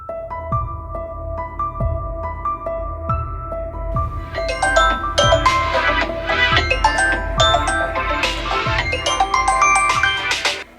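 A phone ringtone plays a repeating melody of bright tones, loud and close, with no talking.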